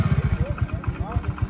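Motorcycle engine running close by with a steady low pulsing throb, and people talking over it.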